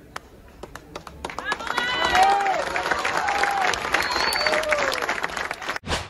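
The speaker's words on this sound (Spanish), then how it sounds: "Quiero que les brinden un gran aplauso también a nuestros candidatos" Applause for candidates on stage at a political event, a crowd clapping that swells and holds with scattered claps, under voices and a few cheers, ending in a sharp burst.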